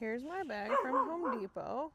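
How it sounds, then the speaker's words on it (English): Several dogs bark and yip excitedly indoors at an arriving garbage truck, with rising and falling howl-like barks running under a woman's nearby speech. "Uh-oh, excuse the barking."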